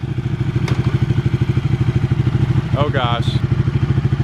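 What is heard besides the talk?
Ducati 1199 Panigale motorcycle engine while riding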